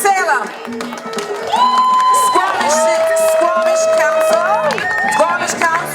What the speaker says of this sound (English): A round of applause for Salem.